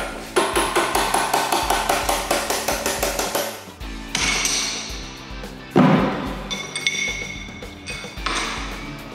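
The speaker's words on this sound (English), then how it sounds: "a little bit of persuasion with a hammer" A hammer raps a bent steel tube free from a hydraulic tube bender: a rapid series of sharp metallic knocks, then a few heavier ringing blows with clanking, loud and close.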